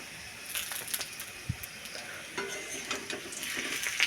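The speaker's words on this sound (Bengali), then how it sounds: "আলুটাও দেখতে পাচ্ছ কতটা লাল লাল করে ভাজছি আমি, অনেকটা ভাজা হচ্ছে" Potatoes fry in a pan for a chicken dish, a soft sizzle under intermittent stirring and scraping close by, fairly quiet, with no speech.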